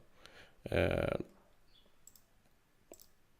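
A computer mouse click while using GIMP, with one short burst of clicking noise near the start, then quiet with faint light ticks.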